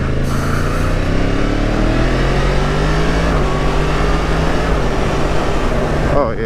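A Yamaha MT-10 motorcycle engine hums at steady revs on a road ride, its pitch rising and dipping as gears change, loud and close against wind noise, with a rider talking over it.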